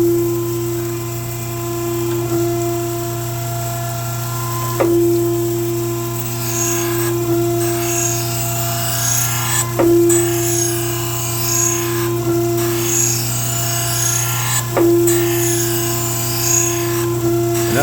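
An Okamoto Accugar 124 surface grinder hums steadily as its wheel grinds an 18-inch Foster Featherweight steel prism, with a faint high hiss and regular soft ticks roughly every few seconds as the table traverses back and forth.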